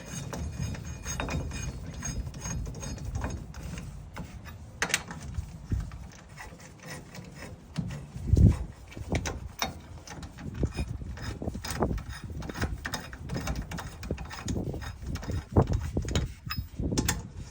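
Lug nuts spun down by hand onto the wheel studs of a Mitsubishi Minicab kei truck during a wheel and tire swap, giving a run of light metallic ratcheting clicks and scrapes with occasional knocks, close and moderately loud, no talking.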